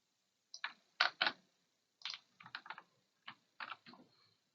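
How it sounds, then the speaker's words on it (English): Close, quiet typing on a computer keyboard: short bursts of crisp key clicks in uneven clusters with brief gaps between them, and no talking. "Next one we'll type in."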